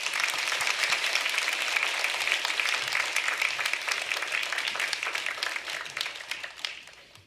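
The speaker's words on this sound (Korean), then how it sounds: "감사하다는 박수로 우리 환영하도록 하겠습니다" Church congregation clapping in welcome for the pastor before a Sunday sermon: a dense, sustained round of applause that keeps an even level, then thins out and fades toward the end.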